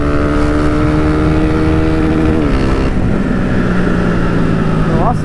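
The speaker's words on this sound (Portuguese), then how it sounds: "a motinha ficou top pra andar na cidade" Honda Fan 160 motorcycle engine revving loudly while ridden, the tone climbing through the gears with a shift partway through, heard close up and continuous.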